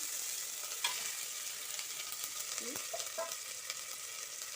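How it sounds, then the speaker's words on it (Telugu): Ginger and green chillies fry in oil in a pan, a steady close sizzle throughout, with faint stirring clicks against the pan. "ఇప్పుడు ఇందులో ముందు అల్లం పచ్చిమిర్చి వేసాను"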